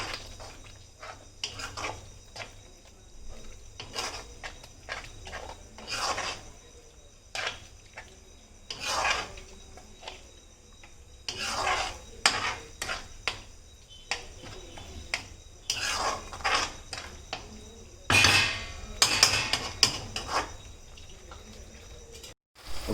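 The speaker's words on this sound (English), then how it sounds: "Again mix it." Spoon scraping and clinking in a pan while brinjal curry with sliced tomatoes is mixed, Hyderabadi bagara baingan style; irregular close strokes and taps continue throughout with no talking.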